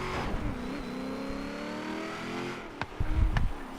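A Ford Mustang on race tires revs hard in Forza Horizon 3, the engine note climbing and falling through shifts at steady volume, with a couple of sharp bursts near the end.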